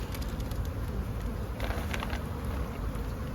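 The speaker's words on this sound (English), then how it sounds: "That's a lot of bees, look at that." Honeybees in a large cluster give off a dense, continuous buzzing drone, close and steady throughout, with no voices.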